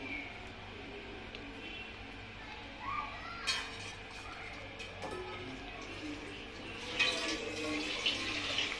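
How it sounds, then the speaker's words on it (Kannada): Water poured onto raw basmati rice in a pressure cooker over cooked chicken, a soft splashing pour with light clinks of utensils, fairly quiet and close. "ರೈಸ್ ಹಾಕಿ ಎಷ್ಟು ಬೇಕು ನೀರು ಅಂತ ನೋಡಿಕೊಂಡು ನೀರನ್ನ ಹಾಕಿ"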